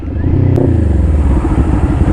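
A motorcycle engine runs steadily close by, a continuous low throbbing rumble with a brief sharp clatter partway through.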